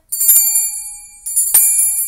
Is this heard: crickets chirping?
no